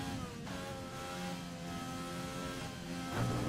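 An F1 car in the video game F1 2020 driven flat out, its high-revving engine a steady loud whine with layered harmonics that shift pitch slightly, holding near and alone throughout.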